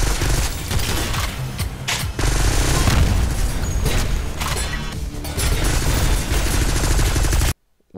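Vector gun firing in the SYNTHETIK video game, a steady barrage of rapid automatic bursts with heavy booming impacts, loud and continuous, with a short break and a sudden cut to silence near the end.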